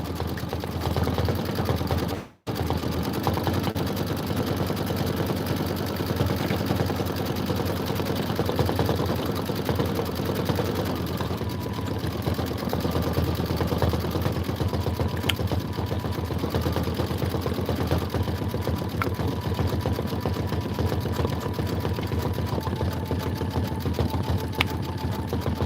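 An embroidery machine stitches out a Kimberbell Sweetheart Street bench pillow design, a steady fast mechanical chatter running continuously and close, with a brief cut near the start and no talk.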